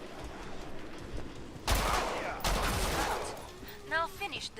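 Gunfire in the video game Killing Floor 2, with a sudden loud burst of rapid shots followed by a second sustained volley and a few short trailing sounds.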